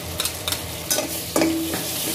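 A pasta sauce being stirred in a pan, with scraping spoon strokes and a faint sizzle, several distinct stirs spread over a couple of seconds, close and fairly quiet.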